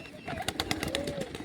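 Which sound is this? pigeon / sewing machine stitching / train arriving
pigeon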